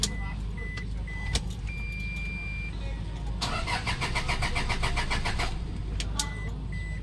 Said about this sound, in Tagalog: Mabilis naman yung cranking o malakas naman yung cranking niya.